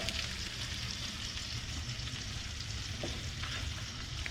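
Eggs and strips of bacon fry on a tortilla on a hot cooking surface with a steady, dense sizzle that holds even throughout, close and fairly loud with no voices.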